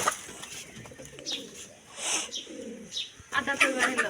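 Domestic pigeons kept in pairs cooing nearby, several soft rolling coos and a few chirps over a quiet background, with a voice speaking briefly among them.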